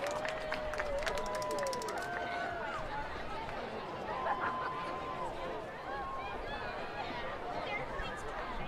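A football stadium crowd applauding its seniors at a high school game, a steady spread-out clapping under scattered cheers and chatter, with a voice talking over it early on.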